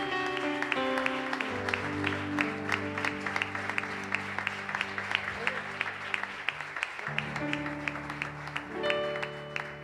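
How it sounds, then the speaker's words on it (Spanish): Church congregation gives a round of applause in praise during a Spanish-language communion service, steady clapping running over sustained organ or keyboard chords and music throughout. "Yo quiero invitarles a darle el más lindo aplauso de alabanza a nuestro Dios bendito."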